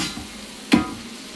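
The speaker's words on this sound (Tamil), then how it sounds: "வெங்காயத்தை போட்டு நல்லா வதக்கணும்" Onions sauté in a pan for Kerala chicken curry, a steady close sizzle broken by one sharp scrape or knock of a spoon.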